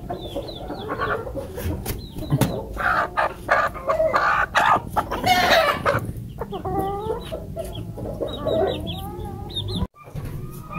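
Several chickens cluck and squawk nearby, with busy overlapping calls and scratchy rustling in between.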